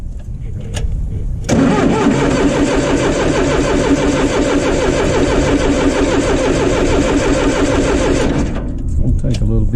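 A John Deere diesel engine with a Stanadyne injection pump cranks briefly, catches and settles into a loud, steady clattering run close by, then cuts off near the end.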